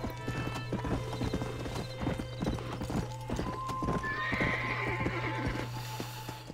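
Hooves clip-clop steadily as a horse gallops in the Red Dead Redemption video game, with a neigh partway through, a continuous low hum and game sounds running underneath.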